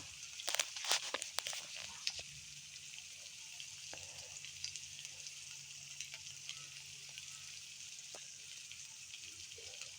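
Spiced tilapia with radish, salt, chilli powder and turmeric sizzles steadily in a pan while being stirred, with a few sharp scraping taps early on over a constant low frying hiss.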